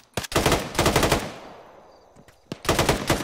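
Automatic gunfire in an online military shooter video game, fired at night: two loud sustained bursts, a pause with a few faint distant shots, then another heavy burst at the end.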